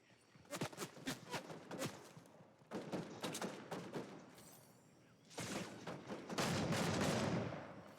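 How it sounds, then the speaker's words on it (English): Rapid bursts of gunfire in a Fortnite match, clustered volleys of sharp shots repeating over several seconds, with a denser, louder stretch of firing near the end. "Someone's shooting at me, Shrimpy."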